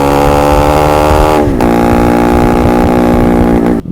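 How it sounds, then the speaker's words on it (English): A two-stroke motorcycle engine revs loud and close, holding a buzzing, raspy drone that dips briefly and climbs again, then cuts out sharply near the end. "did I mention the glorious sound of two strokes?"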